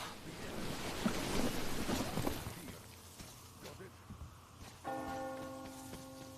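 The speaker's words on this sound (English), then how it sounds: "Do you hear that bell?" A bell rings in a coastal setting, faint and distant, with a few strokes over steady wind and surf, and a clearer tonal ring near the end.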